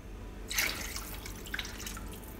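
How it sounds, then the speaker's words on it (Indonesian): Water is poured into a cooking pot for meatball soup, a short splashing rush that settles into a softer trickle and a few drips, close and alone. "Kemudian masukkan air."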